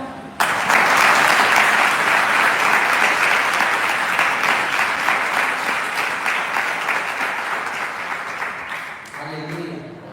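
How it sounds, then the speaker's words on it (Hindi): Women in the audience at a prophecy and miracle prayer gathering clap loudly in a sustained burst of applause that gradually fades, followed by a voice briefly speaking at the end. "तो आप ताली बजाओ"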